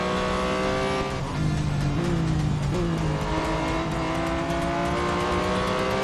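Racing cars roaring in a video game circuit race, a continuous loud engine drone with rising and falling pitch as gears shift and revs climb, filling the whole stretch without talk.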